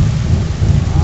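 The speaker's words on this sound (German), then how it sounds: "Was für den Donner." Summer thunderstorm over a house, with loud, continuous rumbling thunder layered over heavy rain pattering on surfaces, close and dense throughout with no talking.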